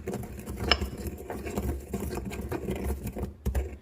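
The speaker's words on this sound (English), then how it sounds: "I'm just going to grind and crush this first to give it a head start" Cumin seeds and black peppercorns being ground and crushed by hand, with dried Mexican oregano, for chile rellenos; a steady close scraping and crunching texture runs throughout with small irregular taps.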